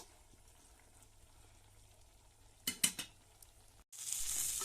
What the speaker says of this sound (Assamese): এইফালে মই ভোল চব্জিখিনি ভাজি আছোঁ